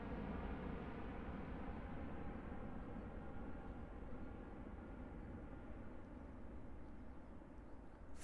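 A Jetstar airliner departing Christchurch Airport at full power, a broad steady jet roar heard from a distance, rumbling low and even, slowly easing as it climbs away.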